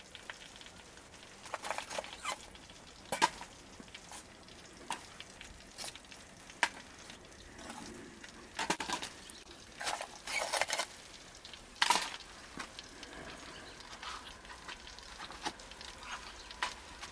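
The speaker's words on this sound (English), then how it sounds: "it's making some rather nice sizzling noises there" Quiet, low sizzling with scattered crackles and pops as toad in the hole cooks in a British Army mess tin while camping, irregular bursts rising and fading over a soft steady hiss.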